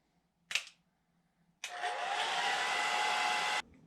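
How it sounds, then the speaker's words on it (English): A hair dryer blows steadily for about two seconds after a brief click, with a broad, even whoosh that cuts off abruptly. "I'm not going to have the hair dryer on real high heat."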